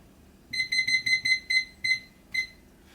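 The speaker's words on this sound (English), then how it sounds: "Set the timer for 10 minutes." A kitchen timer rings in bursts after its countdown ends: about nine shrill, evenly spaced beeps, first in a quick run, then with longer gaps, fairly quiet in a room while bread bakes.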